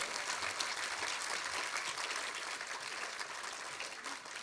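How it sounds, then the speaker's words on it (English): An audience at a STEM summit applauds a panel of women scientists from ISRO with a steady, full round of clapping that carries evenly from start to finish with no speech over it. "can we have a resounding round of applause for these women achievers?"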